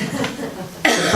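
A single close, sharp cough bursts out after a moment of quiet room noise, loud and brief.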